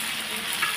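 Fried fish heads being stirred in a hot pan, a steady broadband sizzle of oil with faint scraping, close and continuous for a brief moment.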